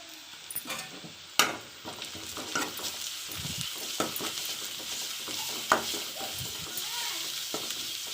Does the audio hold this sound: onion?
yes